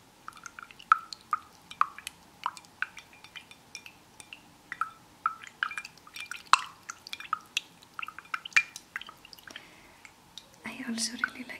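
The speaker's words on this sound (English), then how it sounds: "So I brought some water in a glass so I could squish it around for you." Water squished and swished around inside a glass, producing a steady series of soft, close drips and wet clicks, with a breathy whispered voice over it, ending in a brief louder splashy rustle.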